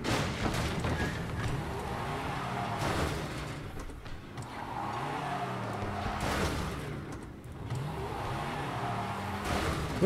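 A car engine in Resident Evil 7: Biohazard roars and revs in repeated surges, loud and continuous, with no talking over it.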